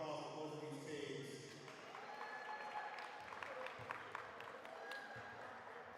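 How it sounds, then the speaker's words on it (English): Applause for two high school basketball teams at a summer league championship award ceremony, a steady, moderately distant clapping from a crowd that lasts the whole stretch, with some voices underneath. "First of all, we want to applause for both of these teams."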